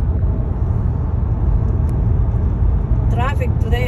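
Heavy Sunday road traffic rumbles as a steady low drone from inside a car, with a voice speaking briefly near the end.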